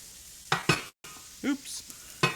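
Brown butter stirred in an overly hot pan: a few sharp scraping strokes against the pan over a low sizzling hiss, with a brief dropout and a faint vocal sound midway.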